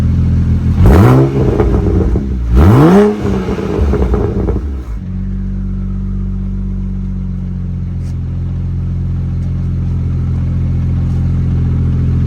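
BMW N54 engine fitted with a new exhaust revving twice, close and loud with rising and falling pitch sweeps, then settling into a steady low idle burble for the rest of the time, with no talk.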